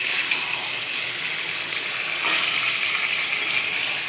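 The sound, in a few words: water poured into pot of chicken curry with potatoes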